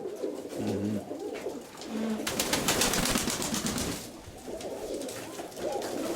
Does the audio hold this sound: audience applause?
no